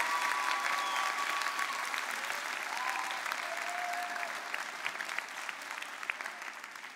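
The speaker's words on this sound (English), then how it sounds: "join me in giving one final huge round of applause to our keynote speaker, Alex Deng." An audience at a World Scholar's Cup keynote in The Hague gives the keynote speaker a long, sustained round of clapping, dense and even, slowly thinning toward the end.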